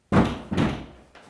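A door bangs loudly twice in quick succession, then a fainter third knock, close and alone.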